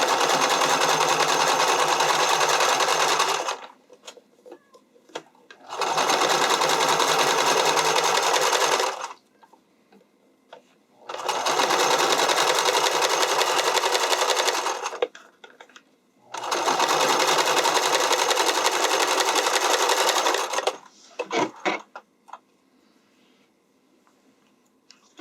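A home sewing machine running straight or zigzag stitch on a bodysuit with underwire channels, in four long steady bursts of several seconds each, separated by short pauses with faint handling noise.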